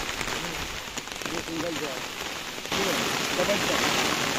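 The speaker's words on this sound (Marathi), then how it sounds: "पाऊस आहे, 2 मिनिटं थांबूया मग." Steady rain falls in a rural mango orchard, a dense hiss of drops on surfaces that grows a little louder partway through, with faint voices in the background.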